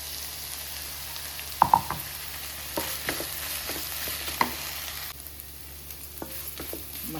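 Ground beetroot masala of chili, cumin and garlic stirred in a frying pan, with a steady soft sizzle broken by intermittent scraping clinks of the spoon against the pan.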